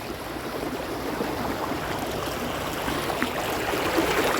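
Floodwater from heavy rain flowing across a village road, a steady broad rushing wash of water, continuous and close, with no voices.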